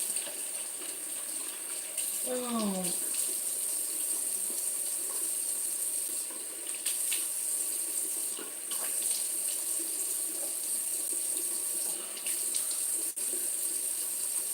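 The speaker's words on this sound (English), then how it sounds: "So this time I'm going to wash my face with cold water." Steady tap water runs into a sink as someone washes their face with cold water, a constant close hiss with brief splashes and a short vocal exclamation near the start.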